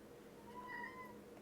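A single faint, drawn-out meow from a kitten in the video game The Forgotten City, short and quiet against a low background hum.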